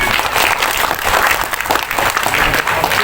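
Dense, steady applause from an audience at a hearing with Sumatra Utara sugarcane farmers, many hands clapping at once with no voice above it for the full three seconds.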